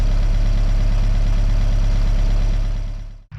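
A 1955 Willys CJ5 Jeep engine idles loud and close on a new exhaust, with a steady low rumbling throb that holds evenly before cutting off abruptly near the end.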